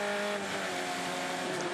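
Formula Ford race cars at Winton in a 2017 race, heard as a steady, loud engine drone with layered harmonic whine, continuous throughout with slight pitch shifts as cars race on the track.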